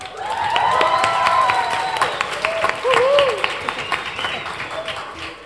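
Students in a Brazilian ENEM literature show-class applaud a belly dance, with steady clapping and cheering from the room under overlapping chatter and a voice rising over the noise.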